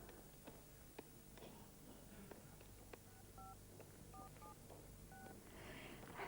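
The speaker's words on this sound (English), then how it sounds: "I'm going to phone him now. 10 digits." A telephone number is dialed as a string of distinct keypad tones, about ten separate beeps spaced irregularly over a quiet room background, with no talking.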